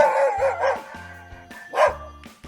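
A dog barks several times in quick succession, close and fairly loud, with a short pause before a final bark.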